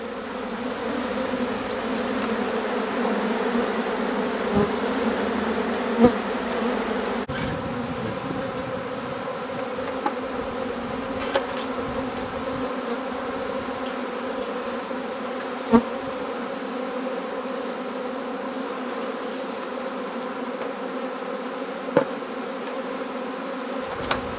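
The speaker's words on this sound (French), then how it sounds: "j'ai mis la grappe dans la ruche. On peut voir les abeilles." A dense, steady hum of many honeybees buzzing close by in a hive after a swarm cluster is placed inside continues throughout, with occasional faint clicks and knocks underneath.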